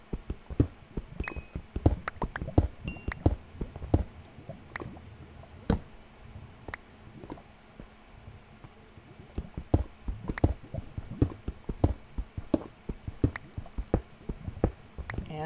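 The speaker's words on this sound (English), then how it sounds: "I can hear lava over here" Lava in Minecraft's Nether pops and bubbles with scattered soft, wet clicks and drips, irregular and moderately near, continuing alone over a quiet background.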